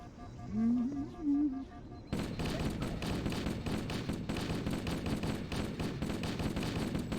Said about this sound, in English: Here I'm shooting to bait these flood to come at me